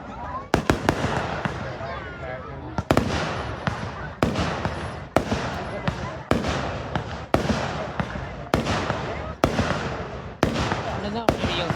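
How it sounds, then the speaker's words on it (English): Fireworks rockets at a fire-and-ice event in Chaska, launching and bursting in a steady series of loud, sharp booms roughly every second, with crackling between blasts and people talking nearby. "That rocket went downwards."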